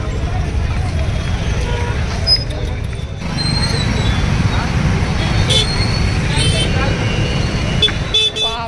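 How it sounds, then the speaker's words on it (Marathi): Heavy traffic jam on a crowded Pune road during the Ganpati festival: constant engine rumble and crowd babble with repeated short car and bus horn toots, people talking nearby throughout. "बापरे प्रमाणाच्या बाहेर ट्रॅफिक जाम आहे"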